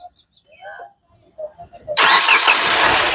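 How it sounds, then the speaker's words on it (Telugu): Faint voices and clicks, then a Hyundai Creta car engine cranks and catches abruptly on a single start, settling into a loud, steady running roar. "ఒక్కసారి స్టార్ట్ చేయి"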